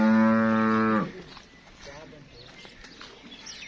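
A Friesian-Cholistani cross cow gives one loud, close, drawn-out moo lasting about a second, then outdoor farm ambience with people talking.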